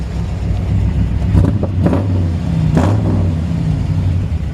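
Exhaust of a 1954 Ford F-100 V8 rumbling at idle, with a few short throttle blips rising over the deep, steady burble, close and loud with no voices.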